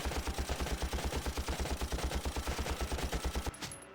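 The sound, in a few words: gunfire from a rifle in the video game Valkyria Chronicles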